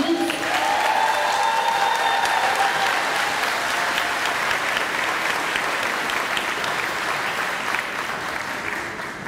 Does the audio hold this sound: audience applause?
yes